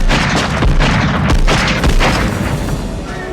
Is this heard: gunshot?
yes